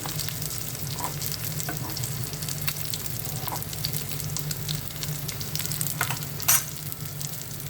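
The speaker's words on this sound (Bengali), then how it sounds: "মাছ ভাজি করছি।" Fish frying in a pan gives a steady, even sizzle throughout, with a few sharp ticks and pops breaking through near the end; no one speaks.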